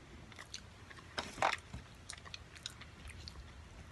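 Someone bites and chews a crunchy Tim Hortons pumpkin spice muffin with bits that may be carrot or pumpkin seeds. The chewing is quiet and close, with a louder crunchy bite near the middle and softer chewing after.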